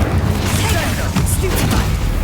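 Bombarda and Incendio spells cast in the video game Hogwarts Legacy, a dense burst of booming blasts and crackling pops packed into two seconds, loud and close with scattered sharp crashes.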